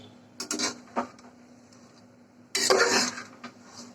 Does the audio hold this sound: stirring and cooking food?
yes